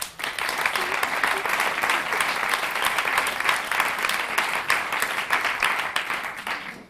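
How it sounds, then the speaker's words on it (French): Warm audience applause at a conference welcoming a speaker, many hands clapping densely and steadily, rising quickly then fading at the end. "Je vous demande de l'applaudir."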